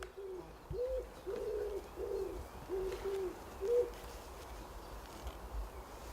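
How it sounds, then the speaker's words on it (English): Forest birds calling: a soft, low hooting or cooing call repeats about six times in an even rhythm, heard from a moderate distance over a quiet, faintly rustling woodland background. "At least 2 different species of birds are calling"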